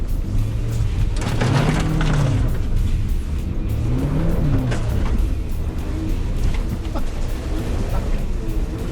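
A small, light Suzuki Jimny off-road in greasy mud, engine revving up and down in loud swells as the wheels spin, with someone speaking over the engine noise.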